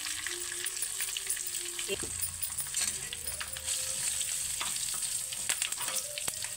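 Asafoetida dropped into hot oil for a tempering for radish sambar crackles and sizzles steadily up close, with a few small metallic clinks and faint tonal hums in the background.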